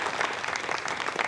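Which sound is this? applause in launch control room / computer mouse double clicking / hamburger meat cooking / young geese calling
applause in launch control room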